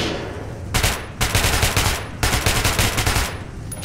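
Automatic gunfire in the video game Metro Last Light, with two long rapid bursts of shots, loud and close, separated by a brief pause.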